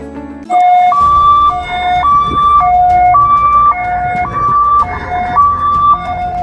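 An ambulance siren wails in a loud, close two-tone pattern, alternating high and low notes steadily for several cycles with faint road noise underneath.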